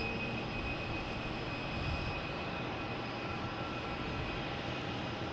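A JetBlue airliner at Boston Logan Airport makes a steady, broad jet engine roar that holds constant and fairly distant throughout, with no talk.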